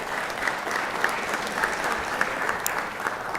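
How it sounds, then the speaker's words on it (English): A round of applause in a state legislative chamber, steady clapping from many hands filling the room without a break, even and moderately loud. "Let's give her a round of applause."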